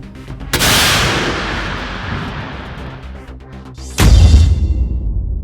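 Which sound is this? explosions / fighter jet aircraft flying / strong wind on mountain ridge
explosions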